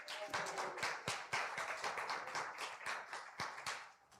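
A church congregation applauds the band after a service set, many hands clapping in a dense, fairly quiet wash with sharper individual claps standing out, no talk over it.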